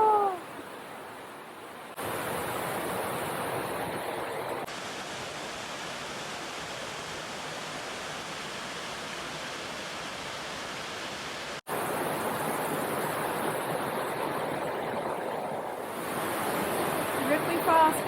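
Ripley Falls, a 100-foot waterfall on Avalanche Brook in Crawford Notch, New Hampshire, gives a steady broadband rush of falling water, close and continuous, with brief wind buffeting on the microphone.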